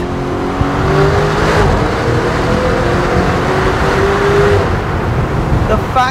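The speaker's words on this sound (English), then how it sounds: "The fact that a 4x4 sounds like that and it accelerates like this." Lamborghini Urus 4x4 in Corsa mode accelerates hard, a loud sustained engine roar with rising revs heard from inside the cabin, steady and dense throughout.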